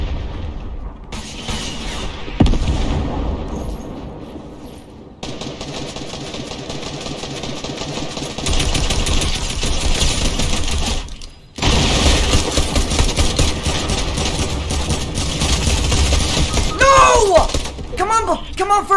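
Bursts of gunfire and explosions in a Fortnite match, with dense rapid shots and booms filling much of the stretch, broken by brief lulls, while players talk excitedly over it.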